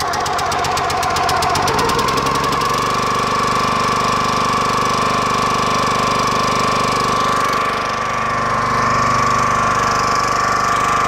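A small petrol engine on a log splitter pulls over and catches, settling into a loud, steady running drone that holds continuously with a slight shift in tone near the end, no voices present.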